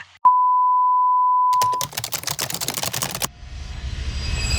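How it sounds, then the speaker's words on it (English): A single sustained electronic answering machine beep sounds, followed by a burst of rapid clicking and then a faint hiss. "Leave your message after the beep."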